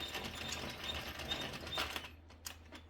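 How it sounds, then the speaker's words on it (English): An Addi or Sentro plastic knitting machine being cranked, giving a fast, continuous ratcheting clatter of needles and gears close up, fairly quiet, breaking into a few separate clicks near the end. "You're just going to crank out 2 more rows, and it just comes off the machine"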